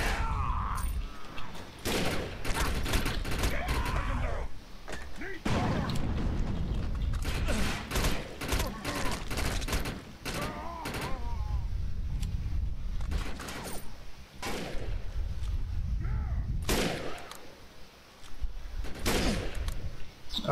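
Gunfire in the shooter video game Defiance: repeated bursts of loud weapon fire and bangs spread across the stretch, with brief pauses between volleys and a few scattered heavier impacts.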